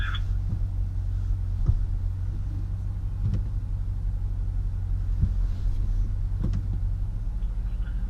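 A 2015 BMW 435i drives through a course, its engine a low steady rumble close by, with faint knocks and bumps over the drone.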